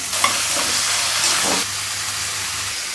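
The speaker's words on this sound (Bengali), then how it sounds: "এখন এর সাথে ফুলকপি, আলু, সিম সবগুলো ভেজে নেব কিছুক্ষণ।" Onion, cauliflower, potato and beans fry in a pan with a loud, close sizzle and hiss, broken by stirring scrapes and a brief clatter midway.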